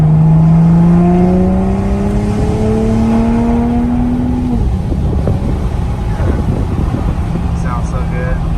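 A 2021 Toyota Supra A90 with a Tomei titanium dual exhaust revs up in a rising drone, then shifts and settles into a rough, burbling exhaust note as it cruises, loud and close.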